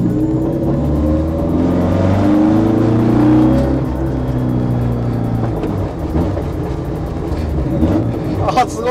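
Electric Toyota AE86 driven and accelerated on a public road with a rally driver at the wheel, giving a steady rising motor whir with shifting tones, heard from inside the cabin under occasional talk.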